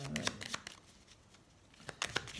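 Tarot cards shuffled by hand for a general reading, giving soft riffling and slapping bursts at the start and again near the end, quiet and close, with a little speech murmur around them.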